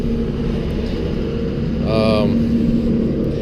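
A Bomag radio-controlled roller's Kubota diesel engine idles with a constant low drone close by, and a voice speaks briefly partway through over the running engine.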